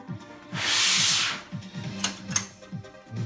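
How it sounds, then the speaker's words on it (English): Motherboard tray of a retro Intel Pentium 120MHz PC sliding into the case with a brief metallic scrape and rub, followed by small clicks and knocks, close up and alone over a faint low hum. "I will just hold it, and you just slide it into place."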